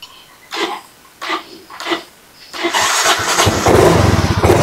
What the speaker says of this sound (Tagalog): So, nag-start na yung motor.